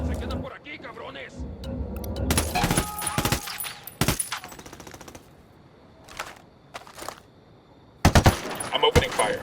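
Gunfire in Ghost Recon Wildlands, with rapid automatic bursts in clusters separated by quieter gaps, loud and close, and voices in the mix.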